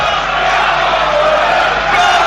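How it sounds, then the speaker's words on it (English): Football crowd at Fulham versus Middlesbrough roaring and chanting behind their team, a dense continuous wall of voices filling the stadium at steady loudness throughout. "the crowd have responded to get back behind their team"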